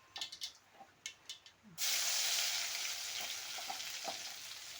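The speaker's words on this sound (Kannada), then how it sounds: "ಈಗ ಬೆಳ್ಳುಳ್ಳಿ ಹಾಕೊಂಡೀನಿ ರೀ." Crushed garlic cloves hit hot oil for garlic rice, with a few light taps first, then a sudden loud, close sizzle that keeps hissing steadily and fades only slightly.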